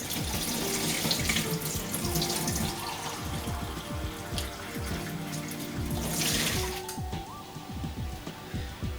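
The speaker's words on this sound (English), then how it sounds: "let me wash this." Kitchen tap water runs into a sink while a can is rinsed, a steady close splashing with irregular gurgles and swells as the flow hits the metal, loud and continuous throughout.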